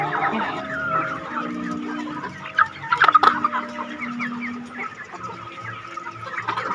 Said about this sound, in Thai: ไก่มาตอดนานนะ